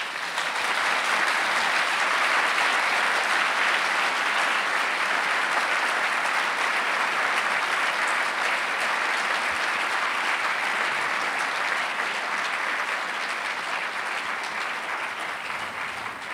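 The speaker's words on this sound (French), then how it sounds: "Je crois qu'on peut les applaudir." A conference audience in a hall gives long, sustained applause, a broad, even wash of many people clapping that holds steady for over fifteen seconds and tapers slightly at the end, with no talking over it.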